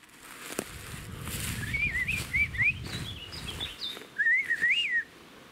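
A person whistles a series of quick warbling, chirpy rising and falling notes imitating robot beeps, in short bursts with a pause, over low background rumble.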